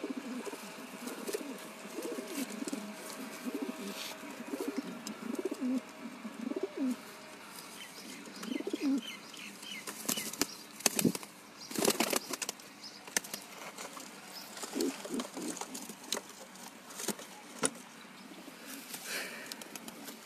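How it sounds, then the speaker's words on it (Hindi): Domestic pigeons coo steadily in a rooftop loft, with bursts of loud wing flapping in the middle and later, all without any talking. "ये मेरा सबसे फेवरेट कबूतर है"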